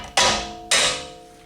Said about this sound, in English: I'm just going to get a screwdriver and a hammer and just give it a little bit of a love tap here